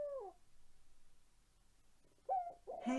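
A pet bird gives owl-like hoots, two short tonal calls at the start and again near the end, close and fairly quiet with a hushed pause between.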